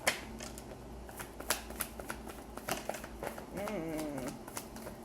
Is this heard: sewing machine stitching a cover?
no